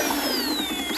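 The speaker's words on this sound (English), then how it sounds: "paddle on the drill just to get it stirred around really well" A power drill fitted with a mixing paddle stirs a muddy potting mix with Alaskan fish fertilizer, a loud steady whine with a slowly falling pitch that runs without pause.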